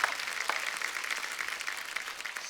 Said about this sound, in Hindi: जोरदार तालियां आशुतोष सर के लिए और रेणुका मैम के लिए।